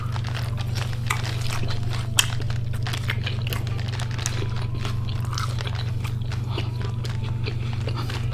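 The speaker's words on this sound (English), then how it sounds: "let's try the fries." Thick-cut, unseasoned fries at Primanti Bros. in Pittsburgh are chewed close up, with soft crunching and mouth sounds over a steady low background hum, no talk.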